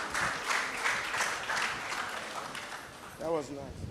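Audience applause at a university convocation ceremony, a steady wash of clapping for about three seconds that fades as a voice begins near the end.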